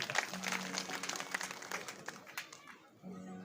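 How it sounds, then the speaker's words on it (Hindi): A village gathering's audience claps in a brief burst of scattered applause, moderately faint, fading out after a few seconds before a low hum returns. "वो बजाओ जरा जोरदार ताली।"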